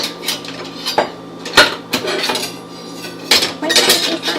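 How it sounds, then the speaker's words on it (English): Metal cutlery clinks and clatters in irregular bursts as someone rummages through a pile of freshly washed utensils for a knife, close and fairly loud with brief pauses between handfuls. "I'm looking for a specific knife."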